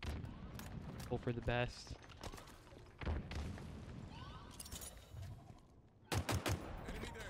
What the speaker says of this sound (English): And toss a nade there.